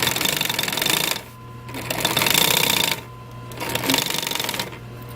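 Industrial sewing machine stitching a car headrest cover runs in loud, rapid mechanical bursts, three runs of stitching separated by brief pauses and a low steady motor hum.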